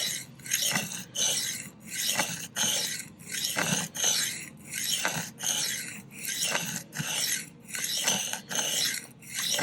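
Steady rhythmic rasping of a knife blade drawn across a whetstone during freehand sharpening, working one side toward the heel; close, even strokes of about one per second repeating throughout with no talk.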